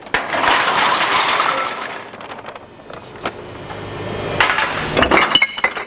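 Glass bottles dropped into a curbside recycling bin of mixed colors, giving loud clattering breaks and clinks that come in bursts, with a quieter gap before another run of sharp glassy crashes.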